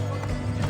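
Horse hooves clip-clopping at a walk in Assassin's Creed Brotherhood, a few soft rhythmic steps over a low steady game background hum.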